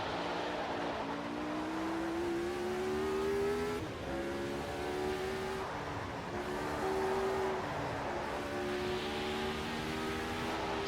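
A 1983 Formula 1 race car engine held in second gear in Automobile Club Racing simulation AMS2 at the South African Grand Prix, a loud continuous buzzing drone rising in pitch through each pull with brief dips between shifts.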